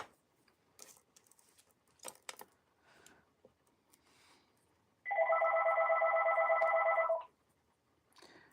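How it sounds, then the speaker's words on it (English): A telephone rings indoors in one steady electronic burst lasting about two seconds, loud and alone, after a stretch of soft clicks and light tapping. "Didn't I say the phone rings every time I am on"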